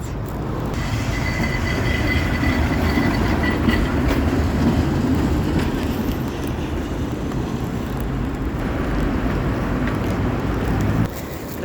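A city tram rolling along its rails, a steady loud rumble of wheels with rattling and brief squeals, close and continuous throughout with no talk.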